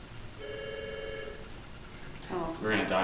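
A short electronic telephone ring sounds once inside a house, the Clinton House in Poughkeepsie, New York, steady and fairly clear for about a second; voices then begin talking close by after a brief pause.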